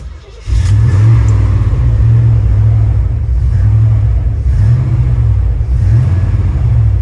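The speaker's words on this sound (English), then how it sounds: "I've got to keep feathering the throttle or else it'll die." A 1989 Chevy truck engine in need of work rumbles loudly up close, kept running by feathered throttle that produces repeated small rises and dips in its steady, throaty idle.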